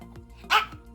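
A puppy gives a single short, sharp bark, close and clear against a quiet indoor background.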